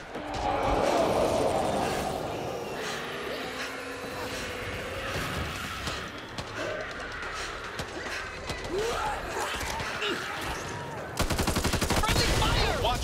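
Gunfire in Back 4 Blood, a co-op zombie shooter, with rapid cracks and a sustained machine-gun-like rattle building toward the end amid chaotic clatter, while characters' voices speak throughout.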